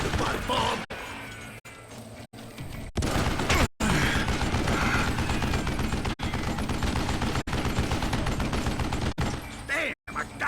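Dense, continuous gunfire and clattering action from the Western shooter game Call of Juarez Gunslinger, loud and chaotic with brief dropouts, while a voice talks over it.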